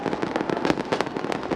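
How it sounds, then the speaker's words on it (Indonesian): New Year fireworks bursting over Jakarta at Bundaran HI, a rapid barrage of overlapping crackling pops and booms, loud and dense with several sharper blasts standing out, no pause between them. "sudah melayangkan dan juga meluncurkan pesta kembang api"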